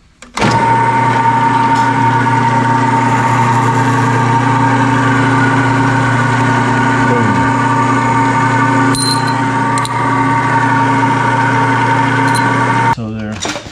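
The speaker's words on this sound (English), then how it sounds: "We're gonna drill a few of these in." A loud, steady motorized whine runs throughout with a low hum, starting and stopping abruptly, like a drill press boring holes in aluminum bars.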